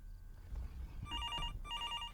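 In the horror game Fears to Fathom, a telephone rings with a shrill electronic trill in two bursts over a low rumbling background, coming in partway through.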